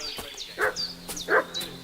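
A dog in Kingdom Come keeps up a fussy run of short barks and yips, spaced in quick pairs with a whining edge, set against a quiet game backdrop.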